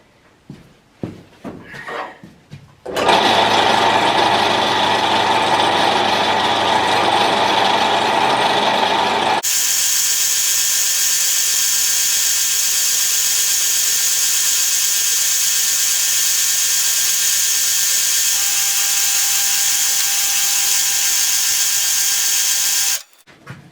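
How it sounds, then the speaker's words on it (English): A bandsaw cuts steel stock for a 13th-century Templar dagger, a loud, continuous mechanical whine that starts abruptly, shifts to a higher, harsher tone partway through, then runs steadily for about twenty seconds before stopping. "I'll remove some of the bulk with the bandsaw first."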